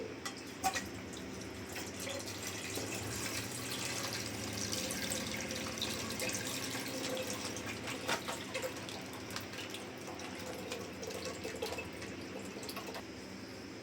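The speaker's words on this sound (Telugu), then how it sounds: "మనం లీటర్ పాలు పోస్తున్నానండి" A steady stream of milk pours continuously into a pot, with faint drips and splashes throughout and no voices.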